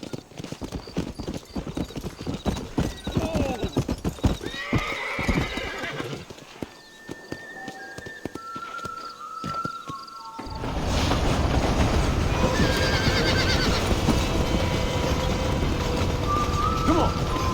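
In the Red Dead Redemption video game, a horse's hooves clip-clop steadily while a horse neighs and whinnies. The hoofbeats pick up into a louder, faster gallop in the second half.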